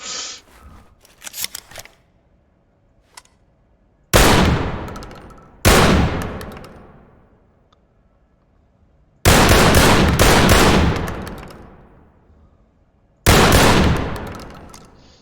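Gunfire in the tactical shooter Ready or Not: after a few faint clicks, four loud separate bursts of rapid shots ring out close by, each decaying into echo, with quiet gaps between them.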